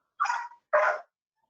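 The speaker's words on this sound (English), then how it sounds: "it seems my dog is a little excited about the award" Dog barking indoors, two close, loud barks in quick succession, then silence.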